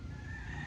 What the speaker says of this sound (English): You can hear these roosters around here.